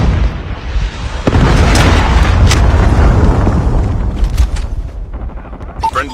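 A Predator missile strike in a first-person shooter video game lands as a loud, sustained booming explosion with rumbling debris, followed by a long fading roar and a few sharp pops near the end.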